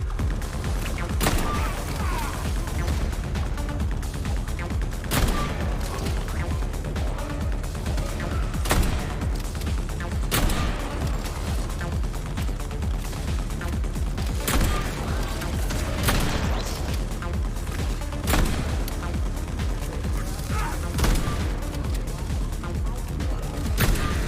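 Gunfire from the Atomic Heart video game as the player shoots at robots: a long run of sharp shots and bursts, some isolated and some in clusters, over a steady, dense background of game music and noise.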